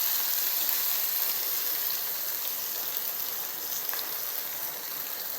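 Onions and curry leaves sautéing in a pan for a pumpkin gravy give a steady, close sizzle, like light rain, that holds at an even level throughout with no talking.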